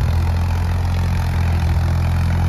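A Ford 3600 tractor engine runs at a steady low idle, a close, continuous diesel rumble with no talk.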